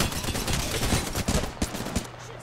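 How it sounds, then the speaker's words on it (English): Rapid bursts of automatic gunfire in the video game Apex Legends, dense overlapping shots with a few sharper cracks, loud and continuous for a couple of seconds. "Charlie, they're shooting at me."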